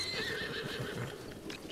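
Horse in The Legend of Zelda: Breath of the Wild, a single short loud neigh and whinny with faint hoof clip-clop beneath it.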